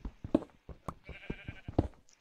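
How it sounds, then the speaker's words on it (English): Sheep in Minecraft bleat several times in quick succession, close and fairly loud, with short nasal cries spread across a couple of seconds. "oh god, sheep, you scared the crap out of me"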